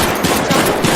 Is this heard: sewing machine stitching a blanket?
no